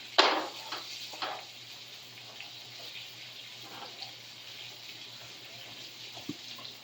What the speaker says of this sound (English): And just going to drain off the excess water there.